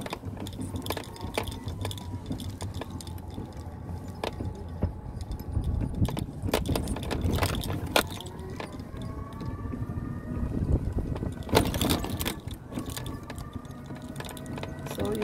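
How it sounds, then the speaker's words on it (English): A mobility scooter rolls through Stratford Centre with continuous rattling, clicking and mechanical ratchet-like noise, punctuated by sharper bumps and knocks as it travels, fairly close and steady throughout. "you're going to be listening to the noise of the scooter moving"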